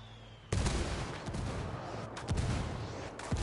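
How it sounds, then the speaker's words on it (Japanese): A mortar strike in Ghost Recon Wildlands: a heavy explosive blast hits suddenly, followed by several more booming impacts and rumbling debris, loud and chaotic. "間接照準射撃を要請した"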